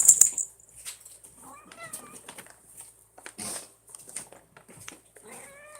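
A cat meows several times indoors, short harmonic yowls close by, alternating with a person's speech and small household noises.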